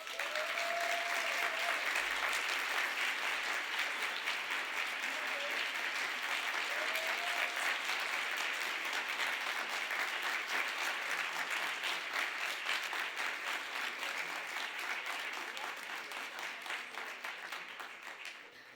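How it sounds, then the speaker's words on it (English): Sustained audience applause at an opening-remarks event, a dense, steady clapping crowd that continues for many seconds before gradually fading toward the end. "Let's give President Preckwinkle another round of applause for all the amazing work."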